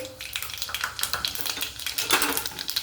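Mustard seeds and cumin crackle and pop in hot oil in a pan, giving close, irregular bursts of spitting and sizzling with a faint scrape of stirring.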